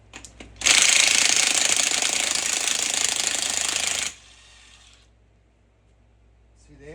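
A small battery-powered impact wrench hammers off big lug nuts from a Jeep Wrangler wheel, one loud, close, continuous rattling burst of about three and a half seconds that stops abruptly, with brief clicks before and after.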